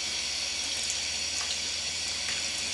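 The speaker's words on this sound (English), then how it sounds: "I give them a quick wash just to clear the sand away" Paua (abalone) rinsed under a running kitchen tap to clear away sand and grit, a steady splashing rush of water with no talking.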